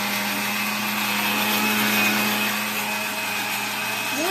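A wet grinder churns pearl millet and jowar batter for idli and dosa with a steady whirring drone and faint scraping. The sound stays loud, close and even throughout.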